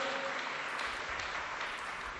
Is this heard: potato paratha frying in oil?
no